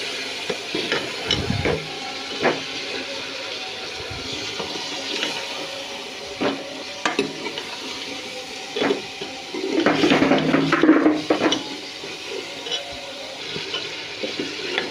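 Potatoes and peas stirred and frying in a pan, with soft sizzling under intermittent scraping and clattering strokes of a spoon, and a busier burst of stirring about two-thirds through.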